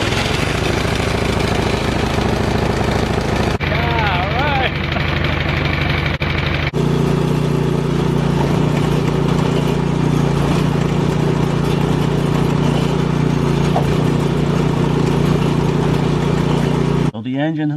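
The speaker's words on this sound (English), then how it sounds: "The engine's nice and warm now" A snow blower engine that has sat unused for a while runs steadily at idle, loud and close, with a steady low drone throughout and a brief change in tone partway through.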